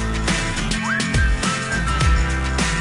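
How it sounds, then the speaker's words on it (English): Whistling rides over a pop song with a steady beat, and one clear rising whistled phrase stands out up front in the mix. "I walk by and I whistle like"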